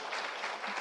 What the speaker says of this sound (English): Let's clap, yeah.